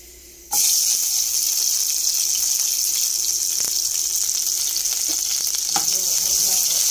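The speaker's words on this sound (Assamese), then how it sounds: "তাৰপিছত এতিয়া মই বনাবলৈ লৈছোঁ মূলা আলু ভাজি।" Radish and potato pieces hit hot oil with a sudden loud sizzle after a brief quiet moment. Close, steady frying follows, broken by a few faint clinks, and there is no talking.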